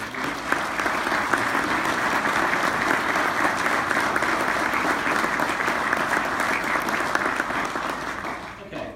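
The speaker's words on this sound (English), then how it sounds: "maybe just a quick stand up, we can give you a round of applause to the staff there" Sustained applause from a breakfast audience standing to thank the staff, dense steady clapping filling the room at close range for the whole span before tapering at the end.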